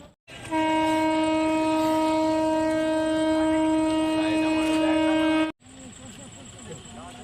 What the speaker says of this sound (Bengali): ওই পাশে ব্রিজটা দিয়ে ট্রেন যাচ্ছে দেখতে পাচ্ছ